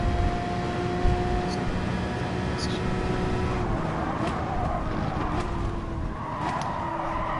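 A Gr.3 race car driving a lap of Suzuka in GT Sport, its engine droning steadily with shifting pitch and a few brief tyre or gear-change accents, while someone talks over it.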